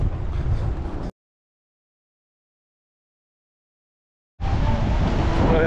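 Gusty wind buffets the microphone at a small cove beach in Arraial do Cabo, Brazil, loud and steady for about a second, then cutting out entirely before returning just as strong near the end.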